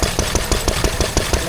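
A Lister D2 stationary engine runs nearby at a steady pace, its loud rhythmic chugging thumping in quick regular beats with no voices over it.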